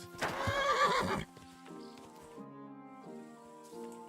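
A horse in the video game Kingdom Come: Deliverance II gives a loud, close whinny, then its hooves clop in an uneven rhythm at a quieter level.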